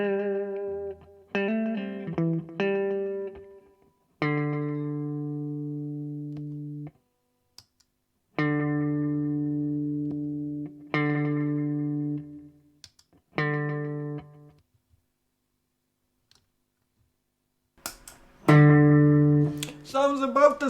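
An electric guitar played through a Donner Yellow Fall delay pedal rings out in sparse single notes and chords, each decaying cleanly and spaced by silences, ending with a brighter, wobbling repeated chord.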